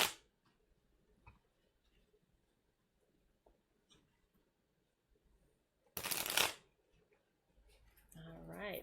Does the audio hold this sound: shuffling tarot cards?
yes